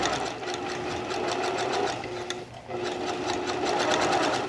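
A sewing machine stitching twill tape onto fabric for a dress lining, a fast close mechanical whir with rapid stitch ticks, running almost without pause except a brief dip midway.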